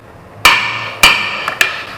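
A hammer strikes metal on the flywheel ring gear of a VAZ Niva, three sharp ringing blows about half a second apart, close and clear with a faint metallic tap between them.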